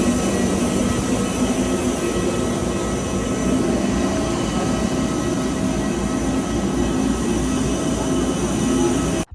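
Steady broadband engine drone inside an AirAsia airliner cabin in flight, a continuous loud roar with no breaks, close and constant throughout.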